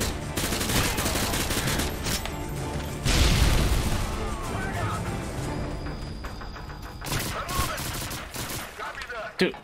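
Gunfire from the video game Call of Duty Modern Warfare 2 crackles in dense, loud bursts, with heavy booms and short rattling volleys throughout amid game noise.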